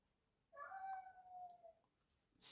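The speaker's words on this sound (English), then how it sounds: "I don't know if you can hear my cat confirming." Domestic cat meowing once, a single drawn-out meow of about a second and a half, clear and fairly close in an otherwise quiet room.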